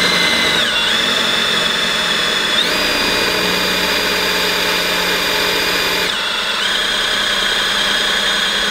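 A power drill bores into an engine block with a steady, loud, continuous whine and grinding drone, the pitch dipping briefly twice as the bit loads up, with no talking.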